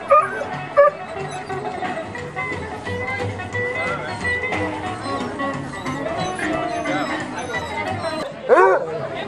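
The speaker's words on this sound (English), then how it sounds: "Don't lose those hounds." Several basset hounds at a rescue event bark, yip and whimper close by, continuously over background chatter, with a louder high whine near the end.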